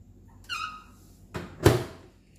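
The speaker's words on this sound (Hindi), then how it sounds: "जैसे आप माइक्रोवेव को खोलिए और इसके अंदर इसको प्रॉपरली रख दीजिए" A home microwave oven door is handled while making plum jam: a brief squeak or tone, then a short clunk and a sharper thunk as the door latches, quiet in a still kitchen.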